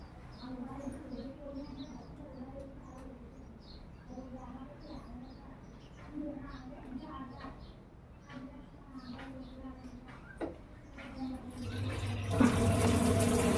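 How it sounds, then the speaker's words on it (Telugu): A 7.5 kg Whirlpool top-load washing machine takes in water on its own, a faint steady trickle and gurgle of filling liquid with soft rhythmic ticks, growing louder and splashier near the end. "నీళ్ళు అది ఆటోమేటిక్గా తీసుకుంటుంది."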